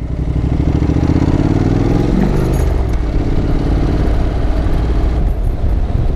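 Honda NC750X motorcycle passing by on a roadside, engine rising loud as it approaches and sweeping past with a falling pitch, then continuing steadily as it pulls away.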